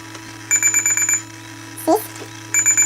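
A model aircraft's electronic motor controller beeps during throttle programming: rapid, evenly spaced high-pitched beeps in two clear series, with a brief chirp between them.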